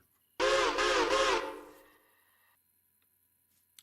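A steam locomotive whistle in the train simulation game Railroader gives one sustained, loud blast of about a second with a wavering pitch. It ends abruptly and leaves a fading hiss and a faint echo tail.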